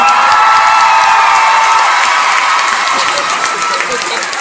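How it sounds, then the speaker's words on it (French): A large cinema audience at the Grand Rex in Paris, gathered for an Aladin premiere, applauds and cheers loudly and steadily, a dense roar of clapping and shouts that fades only slightly. "Merci d'applaudir celui qui joue le vizir dans Aladin."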